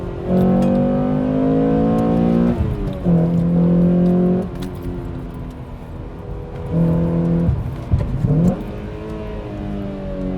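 A Honda Accord Euro R CL1 sedan's engine revs hard while driving, with two climbing bursts of acceleration and a brief lift-off between them, heard loud and close from inside the car.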